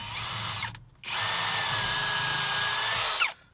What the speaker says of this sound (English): I can take my drill, I can drill the centre one out over the top of that hole